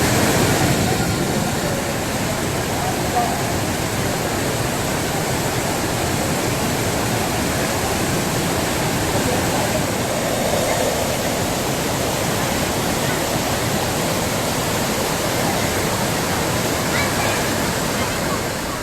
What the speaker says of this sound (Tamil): மேற்கு தொடர்ச்சி மலையில் பெய்யும் கனமழை காரணமாக ஆர்ப்பரிக்கும் குற்றால அருவி.